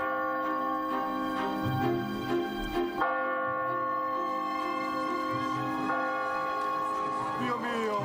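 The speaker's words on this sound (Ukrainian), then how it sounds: "Дзвін Сен Марко." The St. Mark's church bell in the Vatican rings in sustained, overlapping tolls with a long resonant hum, a fresh strike around the midpoint, and faint talk underneath.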